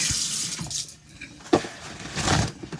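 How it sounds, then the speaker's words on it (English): Tap water runs over hands at a sink, a brief rinse with splashing bursts and a short break in the flow, close and fairly loud, with no talk over it. "Rinse off my hand real quick."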